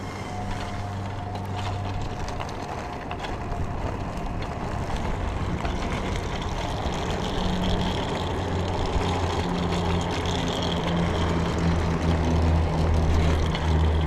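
Riding an 8Fun BBS02 mid-drive electric bike: a steady, fairly loud drone of motor and rolling noise with a sustained low hum and faint whine, continuous throughout and with no talking.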